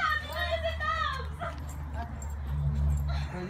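A small pet dog charges and barks in sharp, high yips mixed with whimpers, close by, while people talk over it.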